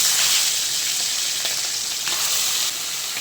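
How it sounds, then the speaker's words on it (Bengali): Pieces of hilsa fish rubbed with salt and turmeric sizzle in hot oil, a loud, steady, close hiss and crackle with occasional spits, no voices. "এখন আমি মাছটা ভেজে নেব।"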